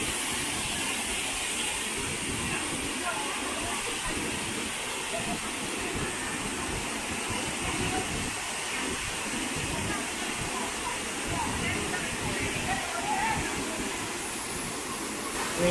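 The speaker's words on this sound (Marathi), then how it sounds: "रौद्ररूप धारण केला धबधबा बघा" Sawdav waterfall in Kankavli taluka, Sindhudurg, running in heavy, muddy flow after strong monsoon rain, roars as a steady, loud broadband rush that never lets up.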